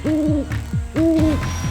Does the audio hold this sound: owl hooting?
yes